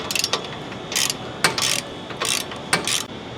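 A ratchet wrench works a nut loose on the valance of a 2023 Ford Super Duty truck, giving several loud close bursts of fast clicking separated by short pauses.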